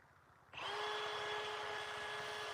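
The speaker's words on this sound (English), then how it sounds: "I understand the drill is probably annoying on the phone audio." A power drill starts suddenly during headstone restoration and keeps running as a steady, close, high-pitched whine that holds to the end.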